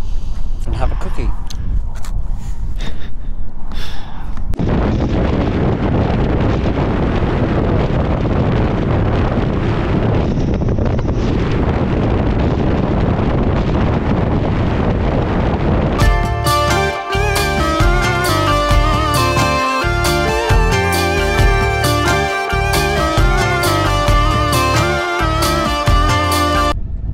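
Strong wind buffets the microphone in heavy, roaring gusts, later giving way to music with rhythmic beats.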